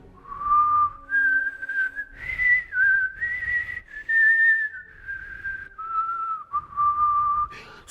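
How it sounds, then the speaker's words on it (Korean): A man whistles a tune solo, clear sustained notes rising and falling in a steady melody with short breaks between phrases, close and fairly loud. "저는 휘파람을 불어도"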